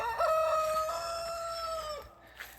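A rooster in a garden lets out one loud, drawn-out crow that holds steady for about two seconds before breaking off, followed by quieter rustling.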